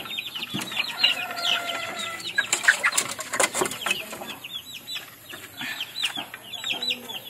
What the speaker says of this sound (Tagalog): tandang din to